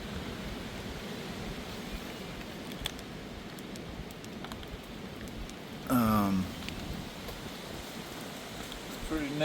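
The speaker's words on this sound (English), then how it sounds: "It's just wind. It's been raining a little bit too." Wind and rain outside a camp in the Great Smoky Mountains, a steady hiss of gusts and rainfall close around, with a brief louder rustle partway through and no talking.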